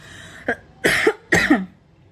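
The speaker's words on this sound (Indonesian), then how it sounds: "saya sedang batuk" A person coughs in a quick series of harsh bursts, one short cough followed by two stronger ones, close and clear during a spoken lesson.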